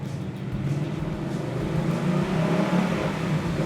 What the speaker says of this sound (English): But if we rev it up a little bit